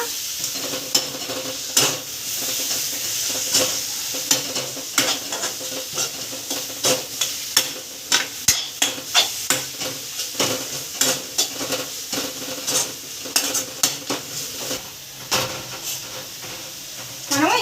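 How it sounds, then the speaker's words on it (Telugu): Chili powder and ginger-garlic paste fry in a pan with a steady bright sizzle. A spoon scrapes and stirs through it in repeated close clinks and scrapes, and no one speaks. "కారం పొడి అల్లం వెల్లుల్లి పేస్ట్ ఒకసారి మొత్తానికి కలుపుకుందాం ఇలాగా"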